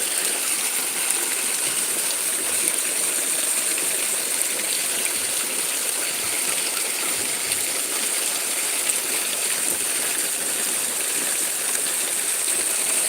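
A handmade aerator churns the water of a fish fry pond, making a steady, loud, unbroken rushing and splashing wash with no pauses.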